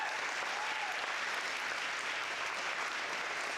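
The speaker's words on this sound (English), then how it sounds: "round of applause for that" Graduation ceremony audience at Horizon Science Academy Toledo applauding an alumnus, a continuous, even roar of many hands clapping, fairly distant and steady throughout, with no voices.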